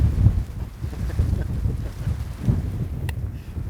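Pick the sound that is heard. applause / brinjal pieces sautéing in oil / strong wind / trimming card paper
strong wind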